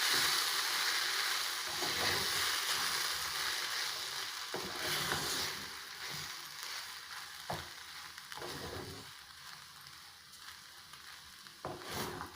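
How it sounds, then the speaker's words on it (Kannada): Cooked chana dal and rice are stirred into roasted coconut in a pan, with a steady sizzling hiss and repeated soft scrapes and thuds of the spoon throughout, close and moderately quiet with no talking. "ಇವಾಗ ನಾವು ಕಡಲೆಬೇಳೆ ಅಕ್ಕಿ ಬೇಯಿಸಿ ಇಟ್ಕೊಂಡಿರ್ತೀವಲ್ಲ, ಅದನ್ನು ಮಿಕ್ಸ್ ಮಾಡಬೇಕು."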